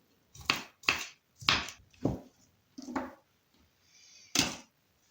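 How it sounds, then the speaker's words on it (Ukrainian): A knife dices an apple into small cubes on a board, giving a handful of crisp, separate chopping strikes at an uneven pace, fairly close and moderately loud, with short pauses between cuts. "і також ріжемо маленькими кубиками"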